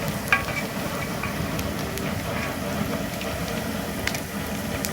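Pork for sisig fries in a pan with a dense, continuous close sizzle and crackle, punctuated by occasional sharper pops and the scrape of stirring.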